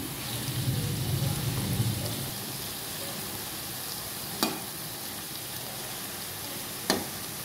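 Vegetables frying in a pan sizzle with a continuous crackling hiss, and a utensil stirs them with a soft scraping at the start, then two sharp taps against the pan later on.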